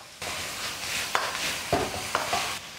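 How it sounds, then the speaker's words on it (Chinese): Aromatics and yellow lantern chili sauce stir-fry in hot rapeseed oil in a wok with a steady, close sizzle. A few sharp spatula scrapes and knocks break through it. "下入准备的这些小料，先把它们的香味炒出来，再来上一点黄灯笼辣椒酱"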